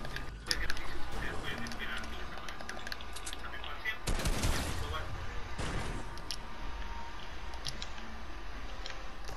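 Gunfire during a Fortnite match: a busy run of shots and bursts, with a loud burst near the middle. It sits under ongoing game noise and players talking.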